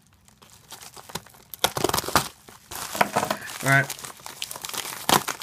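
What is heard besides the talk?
plastic package being cut open with a knife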